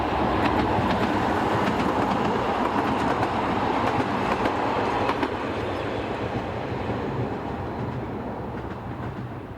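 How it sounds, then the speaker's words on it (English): A narrow gauge passenger rail car runs past on a European branch line, a loud continuous rumble with wheel and rail noise that fades slightly toward the end, no voices. "Most passenger trains operate to an hourly frequency to the terminus at Meerhofen, and are typically formed of rail cars such as this."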